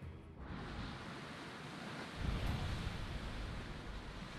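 Open-sea waves in the video game Assassin's Creed Odyssey wash and surge in a steady, soft, airy roar, swelling louder midway with no talk over it.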